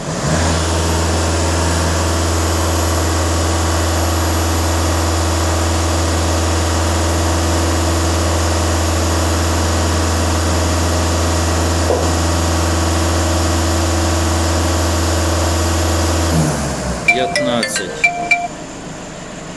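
A Skoda Octavia A7 diesel engine runs loud and close with a steady, even drone for about sixteen seconds, then cuts out, leaving a few clanks and handling noises.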